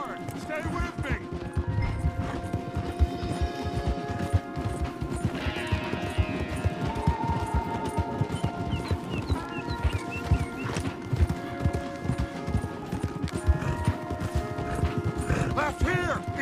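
Horse hooves pound in a steady, fast rhythm as riders gallop through the open-world game Red Dead Redemption 2, with loud game music, voices and ambient effects layered throughout.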